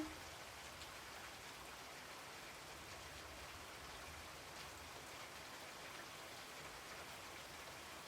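A steady rain sound effect plays in a PowerPoint animation, a soft, even hiss of falling drops that continues unchanged throughout without any talking.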